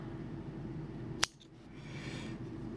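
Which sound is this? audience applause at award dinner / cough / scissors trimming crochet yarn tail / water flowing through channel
scissors trimming crochet yarn tail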